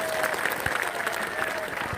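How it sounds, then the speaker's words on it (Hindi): A crowd at an outdoor gathering on a padyatra march applauds, with dense, steady clapping from many hands that stays loud and even throughout. "जरा जोरदार ताली बजाओ"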